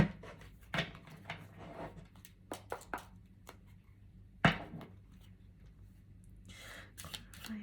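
Tarot cards are shuffled by hand in a quiet room, giving soft scattered riffles and sharp card taps, a few louder snaps standing out near and faint.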